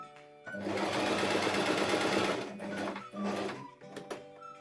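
A sewing machine stitches a velvet prayer-bead pouch, running in a loud close burst for about two seconds, pausing, then a shorter run, with small clicks and handling noises between.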